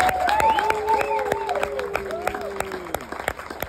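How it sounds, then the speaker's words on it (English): A crowd gathered outdoors for the reveal of an accessible patio and mural applauds, the clapping dense and steady while whistles or tonal cheers and voices ring out over it. "So let's give her a round of applause."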